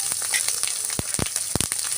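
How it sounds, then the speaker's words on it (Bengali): Spice paste with ground garlic frying in a pan, a continuous close sizzle broken by bursts of louder crackling and stirring scrapes. "দিয়ে মশলাটা সুন্দর করে একটু ভাজা ভাজা করে নিব"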